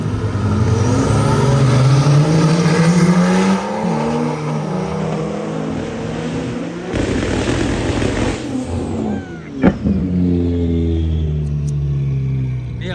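A fast car out on a race circuit, its engine loud and close, revving up and down through gear changes, with a thump near the end as another car comes up from behind.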